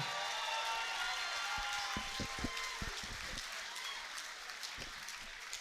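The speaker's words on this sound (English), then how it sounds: "How about a round of applause for these two great fighters, ladies and gentlemen?" Audience applause for two fighters after a combat sports bout, a broad wash of clapping and crowd noise that fades gradually, with a few close, sharp claps and a voice heard briefly over it.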